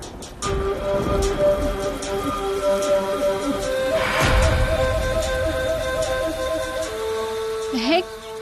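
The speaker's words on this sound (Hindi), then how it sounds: "बारिश हो रही है।" Rain falls steadily with a dense, hissing patter throughout, under sustained tonal sounds and a swell of heavier noise midway.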